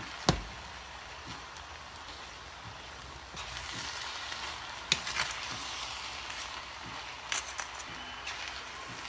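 Eggs are stirred into rice in a pan, giving faint scraping and light tapping over a soft background sizzle, with a sharp knock near the start.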